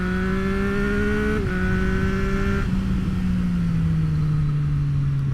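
A 2024 Triumph Street Triple RS motorcycle exhaust drones loudly and steadily with shifting pitch, the engine note dropping slightly as it cruises, accompanied by constant wind noise.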